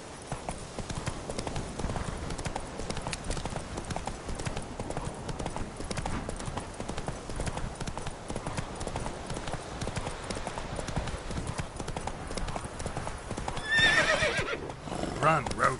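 Hoofbeats of a horse named Roach clip-clop at a steady gallop throughout, close and continuous, with a whinny and a brief voice near the end.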